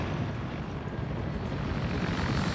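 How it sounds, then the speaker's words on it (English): Helicopter in a combat video game, hit and spinning with its tail rotor shot out, a steady loud rotor and engine drone filling the whole stretch with no talk over it. "It sounds like the helicopter just got hit."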